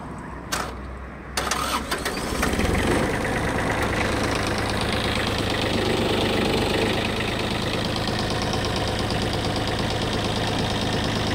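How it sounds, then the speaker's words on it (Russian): A Kubota Aste A-175 Japanese tractor's engine cranks briefly, catches with a loud start, then settles into a steady, close idle that runs on evenly for several seconds. "Давайте запустим и послушаем двигатель."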